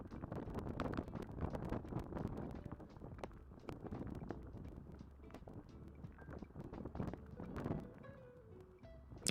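Strong hurricane wind during Hurricane Melissa buffets the microphone, making uneven low rumbling gusts and irregular clattering bursts that rise and fall throughout.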